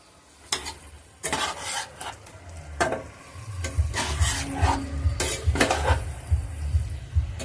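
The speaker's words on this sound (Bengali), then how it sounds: "এবার আমি সমস্ত মশলাটা দিয়ে ভালো করে কষে নিচ্ছি" Spice paste with green chilli paste and chilli powder frying in a pan for a fish curry, stirred with repeated scraping strokes over a steady low sizzle, close and moderately loud, with no talking.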